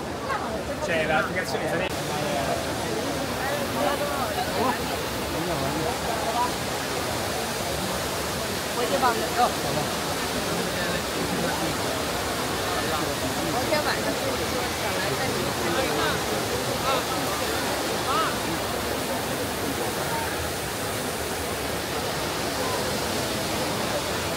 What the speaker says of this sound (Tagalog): Dinig natin yung tubig.